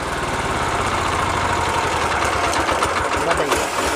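A small power weeder mini tractor engine runs steadily at idle, a loud, continuous near chugging hum with rapid knocking pulses, heard alone throughout.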